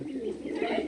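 Pigeons of the Kaldom, Laldom and Kalasabuj breeds coo close by in a soft low burbling call, short and continuous, with no talk over it.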